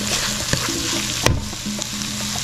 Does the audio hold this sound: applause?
no